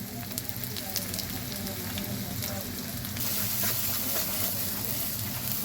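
A spice paste sizzles in hot mustard oil with fried onions, crackling and spattering steadily up close, then growing noticeably louder and brighter partway through. A faint voice comes and goes beneath it.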